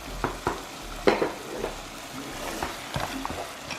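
Ground beef frying in a pan for a spicy queso dip, sizzling steadily up close while a utensil scrapes and stirs it in several distinct strokes, with no talking.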